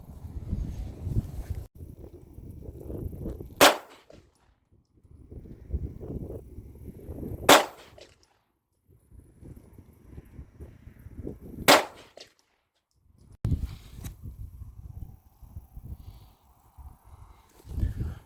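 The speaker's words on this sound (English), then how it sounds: "we are going to fire 3 rounds at that target and see where that impacts" Three sharp handgun shots firing hollow point rounds at a target, spaced several seconds apart, each a loud crack standing out over quiet wind and low rustling outdoors.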